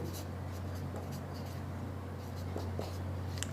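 Chalk or marker taps and scratches faintly as a teacher writes numbers on a board, short strokes over a steady low hum of the room with no talking.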